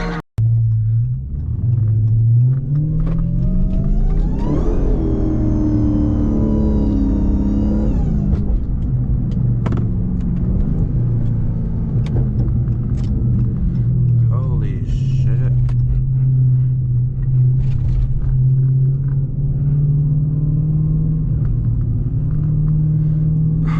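A Dodge SRT Hellcat drifting on wet roads on bald tires, its engine a loud close droning rumble that revs up sharply, holds high, then settles back to a steady low growl.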